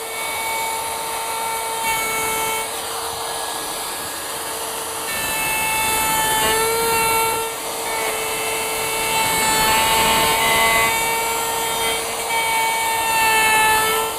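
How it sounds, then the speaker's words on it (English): A router fitted with a pattern bit cuts a wooden cutting board, guided counterclockwise around a template on a workbench: a loud, continuous high-pitched motor whine with a steady cutting roar underneath and no talking. "So now we're getting ready to route."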